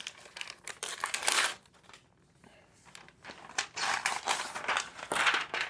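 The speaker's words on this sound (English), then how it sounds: "We've got the paper coating on this." Paper wrapping is peeled and crinkled off a MacBook Pro charging cable, close-up bursts of crisp rustling and tearing split by a short quiet pause.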